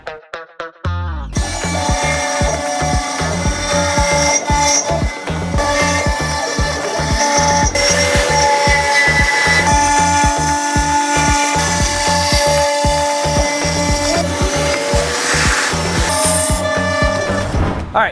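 A CNC router fitted with an upcut bit carves a wood inlay. It gives a loud, continuous high whine with a fast, regular pulsing chatter that runs without a break.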